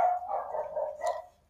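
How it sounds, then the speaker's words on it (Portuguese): A small dog barking in a room, one drawn-out bark or yelp, fairly clear and close, fading out at the end with no voices. "tem um cachorrinho latindo aqui"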